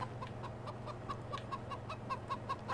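Chickens in the farming game Farming Simulator 2015 cluck in a steady series of short, evenly spaced calls over a low droning hum, fairly quiet, with no talk.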